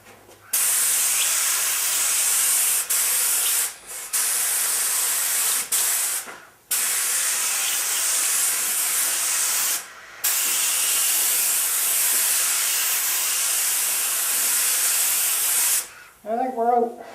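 Primer sprays from an aerosol can onto a 1968 Firebird restoration part in long, loud, steady hissing bursts, broken by several short pauses, with brief talk at the end.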